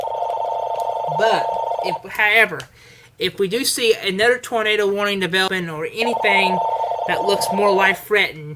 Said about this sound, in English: Sorry about the phone ringing right now.